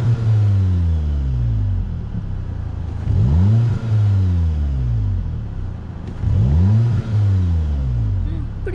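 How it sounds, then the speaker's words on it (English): A 2017 Volkswagen Golf GTI engine revs repeatedly, rising and falling in pitch with a deep exhaust rumble, loud and nearby, with voices audible in the background. "Can hear the exhaust sound from here."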